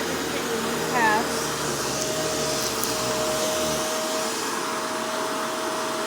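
A Shark Rotator Powered Lift-Away NV650 vacuum cleaner runs steadily on carpet, a continuous whooshing motor roar with a faint airy whine, loud and close throughout with no break.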